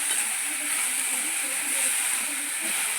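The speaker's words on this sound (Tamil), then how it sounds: "இதோட இந்த புளியும் சேர்த்து போட்டோம்னா அதுவும் வதங்கிடும்." Pirandai (adamant creeper) and tamarind sauté in a pan for thuvaiyal, giving a steady, close, airy hiss and sizzle that holds evenly throughout with no clear pauses.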